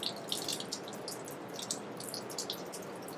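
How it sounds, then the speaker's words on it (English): A metallography specimen is rinsed under a steady flow of tap water in a lab sink and gently scrubbed with a brush, giving a continuous hiss of running water with soft splashy patter throughout. "keep your sample underneath the flowing water, and then just use our brush to gently clean it"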